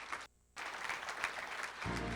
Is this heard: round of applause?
yes